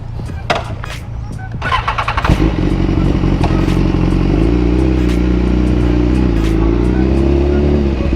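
A BMW S1000RR motorcycle engine clatters, then catches after about two seconds and settles into a loud, steady, close-up running drone with no talk over it.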